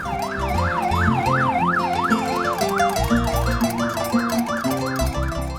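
A tricycle motorcycle ambulance's siren wails in a fast, repeating up-and-down pattern, loud and close, over rumbling engine noise.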